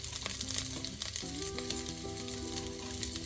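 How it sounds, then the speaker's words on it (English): Green chilies and whole spices (jeera, cinnamon stick, bay leaf, green cardamom) sizzle and crackle steadily in hot oil in a pan, with light stirring sounds and no voices. "Then I'm going to add my green chilies, all the whole spices,"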